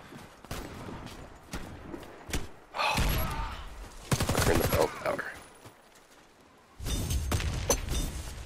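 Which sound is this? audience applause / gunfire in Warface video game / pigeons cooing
gunfire in Warface video game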